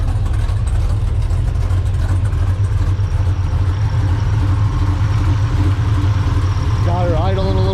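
LSA V8 engine in a mail truck idling on a dyno: a loud, steady low rumble with a slightly uneven lope throughout, and a brief rise in pitch near the end.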